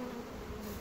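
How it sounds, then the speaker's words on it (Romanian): A close, steady hum of many honey bees buzzing together at a hive, droning continuously without pause. "Albinuță mai e, încă"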